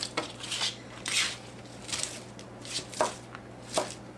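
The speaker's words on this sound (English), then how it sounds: "Now, I want to chop my spinach a little bit." Knife chopping packed fresh spinach on a cutting board for a chicken pasta bake: about six crisp, separate cuts at an uneven pace, close and fairly loud, with a low steady hum underneath and no talking.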